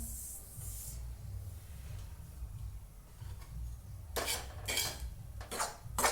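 Semolina (rava) being roasted in a pan over high heat, with faint steady sizzle and hiss broken by several sharp metallic scrapes and clinks of a utensil stirring against the pan.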